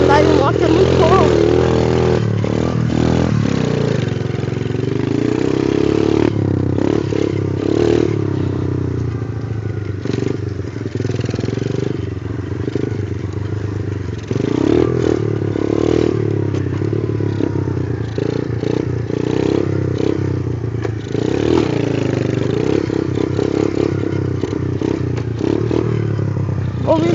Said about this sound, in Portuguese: Mas andar de moto é muito bom.